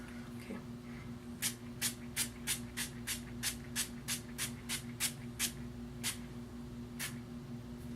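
Short bursts of a makeup setting spray pump hiss out one after another, about a dozen quick spritzes, then a couple of slower ones, close and fairly quiet.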